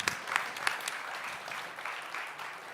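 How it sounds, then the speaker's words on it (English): Audience applause at a startup conference pitch stage, a steady wash of clapping from a moderately sized crowd lasting the whole moment, fairly close and even. "round of applause"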